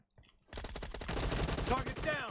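Bursts of gunfire in PUBG, the battle royale shooter, a rapid run of loud close shots after a brief quiet start, with a voice talking over part of it.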